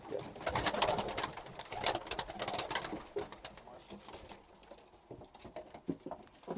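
Pigeons shuffle and flutter close by in a coop, with soft pattering wing and feet sounds and faint cooing scattered throughout, no speech.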